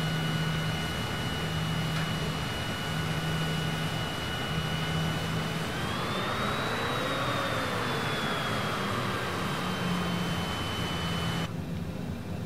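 A Cessna Citation CJ4 jet in Microsoft Flight Simulator drones with a steady turbine whine and a broad roar. The pitch swells and sags as thrust changes, and there is no talk.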